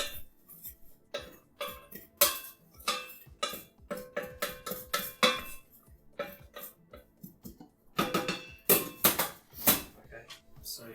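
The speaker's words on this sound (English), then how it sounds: "Just giving that a big stir around." A spoon scrapes and knocks around a cooking pot during home cooking with sweet potatoes, a steady run of clinking, tapping strikes that grows busier toward the end.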